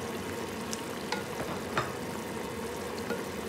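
Potato pieces go into a pot of beef adobo at a steady simmer, a faint bubbling sizzle with a few soft plops and knocks over the simmering, no voices.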